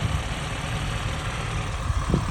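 A classic 998cc Mini engine idles steadily with a low, even rumble, continuous and close, with no talking.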